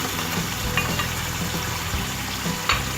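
Meat, onions and tomatoes fry together in a pan for bhuna gosht, making a short, steady sizzle and bubbling with a couple of faint clinks.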